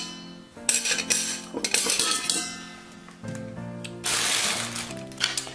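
The stainless steel rack of an Instant Pot Duo Plus 6-quart electric pressure cooker is handled, giving repeated bright metallic clinks and clattering knocks at close range, with louder rattling bursts toward the end.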